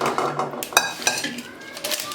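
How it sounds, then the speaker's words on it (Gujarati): A cooking vessel is handled in a home kitchen while making chocolate from broken chocolate compound: a few sharp metallic clinks and knocks, with light scraping between them, close and clear. "એ પછી આપણે એક વાસણ લેવાનું છે"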